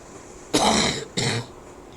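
Two quick, close coughs, the first a little longer and harsher than the second, separated by a brief pause against a quiet background.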